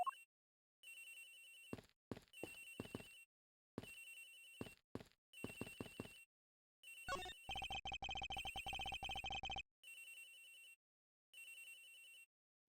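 Telephone ringing in the Ace Attorney Investigations video game, a synthetic electronic ring in repeated short bursts separated by silences, one longer buzzing stretch in the middle, clear and alone with no talk.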